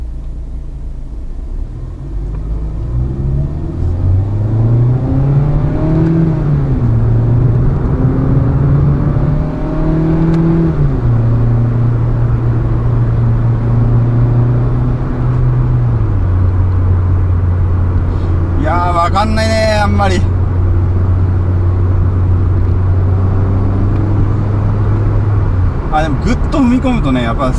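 A Suzuki Swift Sport ZC33S fitted with a power chamber intake revs in a low gear in manual mode: the engine drone climbs and holds a steady pitch, with short hissing bursts near the end.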